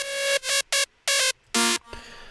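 A single-voice saw synth lead for an EDC 2021 remake with its effects bypassed, bare and bright like an init preset, playing a few clipped staccato notes, loud and alone.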